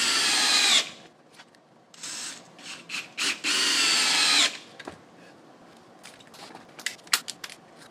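A DeWalt 20V ATOMIC multi-head drill driver whirs in short bursts, two longer high-pitched runs separated by quick trigger blips, then several brief clicks and taps of handling afterward.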